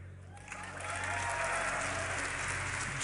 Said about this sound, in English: one big cheer from the crowd